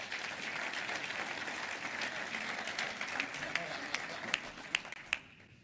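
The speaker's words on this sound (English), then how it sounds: "Please join me in one more round of applause." A round of applause from a military awards breakfast audience at the Sergeant Major of the Army Forum, honoring Strickland Award recipients; steady dense clapping from a large crowd that thins out with a few louder single claps before fading.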